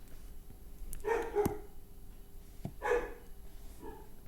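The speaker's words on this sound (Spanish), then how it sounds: "ahora se escucha el perro de la vecina" A neighbour's dog barks from a distance, two or three separate muffled barks spaced over a few seconds, heard faintly through a quiet room.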